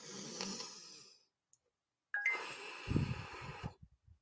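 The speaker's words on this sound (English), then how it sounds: "Breathe in through your nose, 1 deep breath." Deep breaths drawn in through the nose during a laughter yoga session, two breathy sniffing inhales split by a pause of silence, close and fairly quiet.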